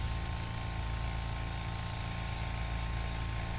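A continuous, even hiss of a spray gun or aerosol spraying NATO black paint onto a model kit, close up and steady throughout with no breaks.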